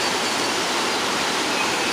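Rainwater rushes through a roadside gully in Jamaica during heavy rainfall, a steady, dense, broadband roar of flowing water, close and continuous with no voices.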